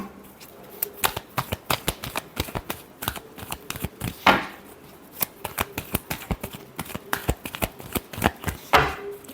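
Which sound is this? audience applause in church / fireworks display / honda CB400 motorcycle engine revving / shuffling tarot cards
shuffling tarot cards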